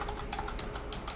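Quick typing on a laptop keyboard, a rapid close run of light key clicks with no talking.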